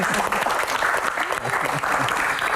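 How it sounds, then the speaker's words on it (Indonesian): An audience on a television talk show bursts into steady, dense applause that stays loud and even throughout, with a voice faintly underneath. "Baik, tepuk tangan."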